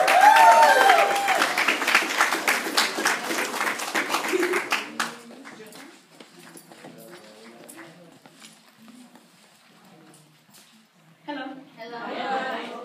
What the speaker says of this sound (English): So a warm round of applause for Eileen, ladies and gentlemen.